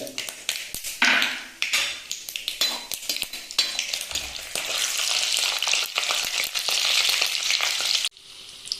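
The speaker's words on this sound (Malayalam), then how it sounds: "കടുക് ഒന്ന് പൊട്ടി വരട്ടെ" Mustard seeds with chana dal and urad dal frying in hot oil for a Chettinad potato dry roast, giving a loud, continuous sizzle with dense crackling pops that carries on throughout and cuts off sharply near the end.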